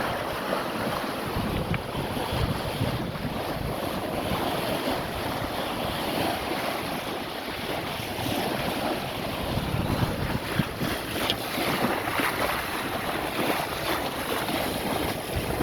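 A sailboat moves under sail off Scotland's Cumbrae Islands, with a steady wash of waves against the hull and gusting wind buffeting the microphone, sustained at moderate level throughout.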